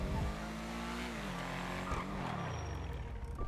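A Pfister 8F Drafter sports car in GTA Online fires up with a loud, sustained engine roar, the revs climbing and dipping through a couple of blips, with no one speaking over it.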